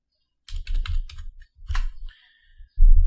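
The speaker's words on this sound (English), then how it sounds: "hitting the Enter key when you're done" Keys clatter on a computer keyboard in short, rapid bursts, then pause before a final firm keystroke, close and crisp with no voices.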